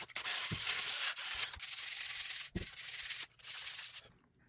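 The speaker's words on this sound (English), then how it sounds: "So now I'm going to sand this up and see how it looks." Hand-sanding a DIY bookshelf built from an Ikea Flisat unit: long, steady abrasive rubbing strokes in close succession, with brief pauses and soft knocks between passes, and no talking.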